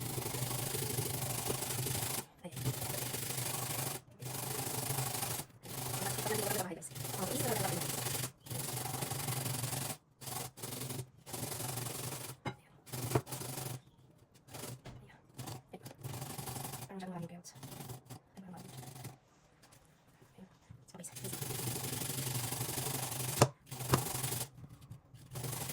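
Carrots rubbed against a hand grater for zucchini carrot fritters: steady, close scraping strokes in repeated bursts separated by short pauses, with a voice speaking at times.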